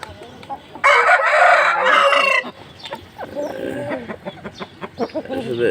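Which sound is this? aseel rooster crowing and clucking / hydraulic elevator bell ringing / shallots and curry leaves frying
aseel rooster crowing and clucking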